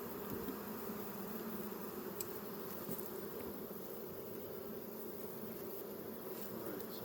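Honeybees at an open backyard hive made of stacked boxes hum in a steady, dense drone that stays even throughout, close by and unbroken, with no voices over it.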